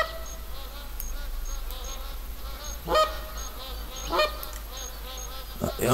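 A flock of geese honking repeatedly in the video game The Hunter, at Piccabeen Bay, over a busy, buzzing background, loud and layered, with a few louder bursts of calls.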